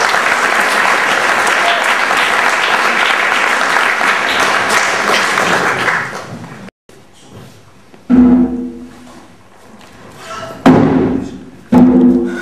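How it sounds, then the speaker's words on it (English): Theatre audience at a 50th anniversary celebration of Theatro Technis applauds after a short play, a dense, loud burst of clapping for about six seconds that stops abruptly, followed by a few thumps and someone speaking. "Let's give an applause to that."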